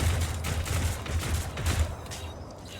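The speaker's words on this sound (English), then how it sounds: "Rapid fire. Executing order. Burst fire." Burst gunfire crackles in a sci-fi video game, a quick string of rapid, clustered shots firing in short rhythmic volleys, loud and close, fading slightly toward the end.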